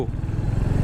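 A Royal Enfield Hunter 350 motorcycle engine throbs loudly and close in a short, rhythmic low burst as it picks up speed.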